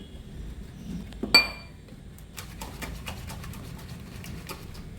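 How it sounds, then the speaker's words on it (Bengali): A utensil scrapes and clinks against a bowl while batter for a fish chop is mixed with water, with one sharp clink and then a run of quick, light taps and stirring sounds. "এবার সামান্য জল দিয়ে দিয়ে একটা ব্যাটার গুলে নেব।"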